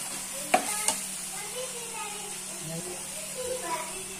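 Onions or green onions softening in a pan for baingan bharta, giving a faint, steady sizzle with light stirring and a couple of sharp utensil clicks near the start, with brief speech in the background.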